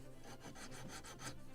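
A wooden yard for a Model Shipways kit of the 1776 gunboat Philadelphia is sanded with a sanding block, giving soft rhythmic rasping strokes, faint and close, about five passes, with no talking.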